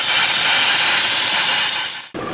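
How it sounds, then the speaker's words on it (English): Compressed air hisses steadily out of two tyres at once through an Indeflate deflator on an overlanding vehicle in Namibia, a loud continuous rush that cuts off abruptly near the end. "We use Indeflate to air up or down 2 tyres simultaneously."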